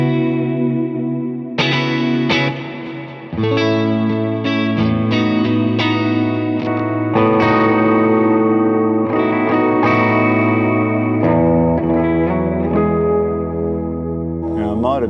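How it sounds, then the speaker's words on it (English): An electric guitar played through a Boss IR-2 pedal with big reverb rings out in sustained chords and notes, each tail washing into the next with echoing, chorused depth. "Let's get some big reverb going."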